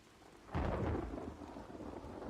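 Thunderstorm in a video game: a loud thunder crash with heavy rain bursts in after a brief quiet lead-in, then settles into a steady roar of rainfall.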